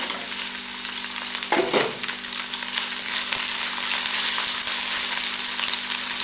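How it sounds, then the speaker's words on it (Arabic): Peppers and carrots fry in a pan with a steady, loud sizzle throughout, broken by a brief stirring clatter near the start, for a stuffed chicken breast roll filling. "غندير الفلفله تشحر شويه وغنزيد عليها الخيزو"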